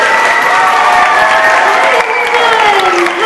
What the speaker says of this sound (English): We're so grateful for Stacy Posick, so let's give her a round of applause.